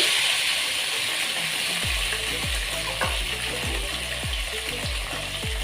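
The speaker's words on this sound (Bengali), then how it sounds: "কচুটা দিয়ে আমরা একটু নাড়াচাড়া করে নেব" Boiled taro pieces fry in a pan with a fish-head dish, giving a steady close sizzle over a low gas flame, with regular rhythmic scraping strokes as the mixture is stirred, and no voices.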